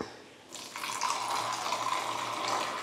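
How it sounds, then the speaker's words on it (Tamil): A tumblerful of water is poured into a pan to boil for coffee, a brief hush followed by a steady, close splashing gush that continues to the end. "ஒரு டம்ளர் தண்ணியை விட்டு கொதிக்க விட்டுடலாம்"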